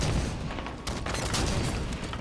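A grenade explosion in Halo 5 rumbles through a loud, dense burst of gunfire and booming blasts, with no talking.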